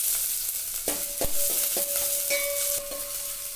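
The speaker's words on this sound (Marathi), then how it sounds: "हा मी घालते फोडणीमध्ये." Chopped onion hits hot coconut oil for a fish curry and sizzles loudly, with several sharp clinks and scrapes of a spoon stirring in the pan over the steady frying hiss.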